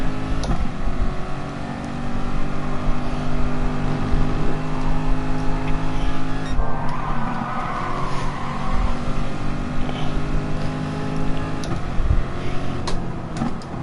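Racing cars in Gran Turismo Sport, including a Ferrari, with loud, continuous engine drone and revving as they accelerate through a technical section, shifting pitch as the cars push close together.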